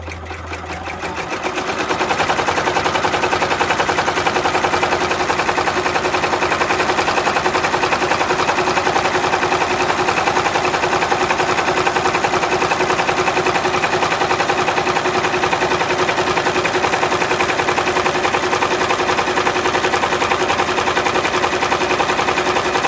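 A Brother multi-needle embroidery machine runs steadily through an in-the-hoop design, its rapid, even needle hammering loud and continuous after a brief quiet start, with no talk.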